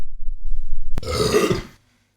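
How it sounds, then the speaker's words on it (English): A loud, drawn-out beer burp sounds close up for most of a second after a brief low rumble, then stops abruptly, with no talk. "you got to have the odd beer burp"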